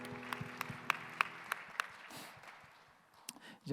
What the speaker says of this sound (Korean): 서로의 삶을 우리 박수로 응원합시다.